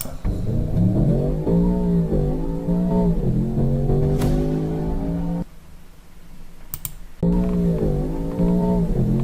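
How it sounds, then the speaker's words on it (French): A Range Rover Sport SV Edition One revs hard through several rising gear pulls, its engine note climbing and dropping between shifts, with a brief quieter gap before it pulls loudly again. "On va se voir une petite accélération pour voir un peu ce que ça rend."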